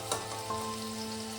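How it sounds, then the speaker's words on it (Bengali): Green beans fry steadily in a pan, a close, continuous sizzle with a light stir or clatter near the start and no voices. "মিনিট 3-4 আমি বিনসটাকে এইভাবে ভেজে নিয়েছি।"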